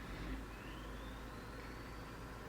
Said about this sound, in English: This fucking UPS truck just keeps coming up and down the road